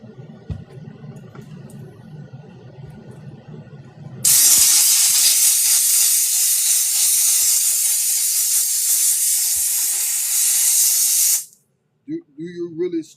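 Handheld steamer blasting a loud, steady hiss for about seven seconds while cleaning dirt stains from suede, coming on abruptly after a quiet stretch of low voices and cutting off sharply, followed by brief talk.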